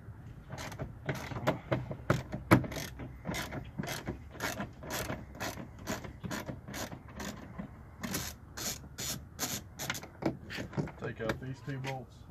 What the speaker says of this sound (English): you do want a ratchet with an extension.